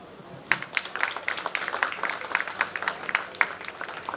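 Scattered clapping breaks out at an awards ceremony after a short quiet moment, with uneven individual claps that are fairly soft and slightly distant, keeping up an irregular patter to the end.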